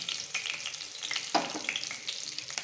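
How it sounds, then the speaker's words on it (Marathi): Cumin seeds and curry leaves spluttering in hot oil for a bitter gourd tempering, a close, continuous crackling sizzle with sharp pops scattered throughout, no voices. "हे बघा, जिरे चांगले तडतडले."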